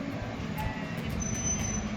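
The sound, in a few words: tourist train running around Athens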